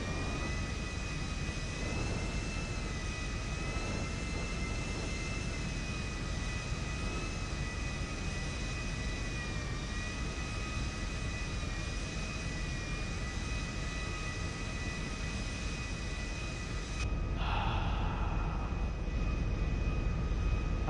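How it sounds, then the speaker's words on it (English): Steady engine drone heard inside an airplane cabin before takeoff, a constant low rumble with a faint whine, even and continuous, with a brief shift near the end. "Flight attendants, prepare for takeoff."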